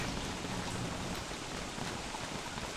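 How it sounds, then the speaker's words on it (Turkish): Steady rain falls in the video game Don't Starve Together, an even, continuous hiss of raindrops with no pauses and no voices over it. "Çok yağmur yağdı üşüdük."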